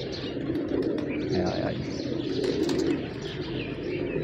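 Pigeons feed on scattered grain outdoors, pecking and shuffling under a dense layer of cooing and chirping, with brief wing flaps now and then. Someone speaks a few words over the birds.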